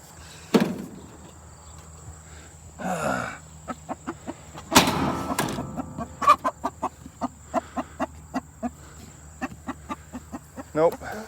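Farm hens cluck in a steady run of short, evenly spaced calls close by, with a few louder knocks and rustles of movement mixed in.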